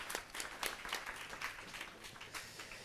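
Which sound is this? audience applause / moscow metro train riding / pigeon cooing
audience applause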